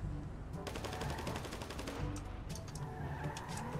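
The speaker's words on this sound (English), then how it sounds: "When you hear gunshots, you get a little confused." Rapid bursts of GTA 5 gunfire crackle continuously, with automatic volleys and scattered shots over a dense background of game noise.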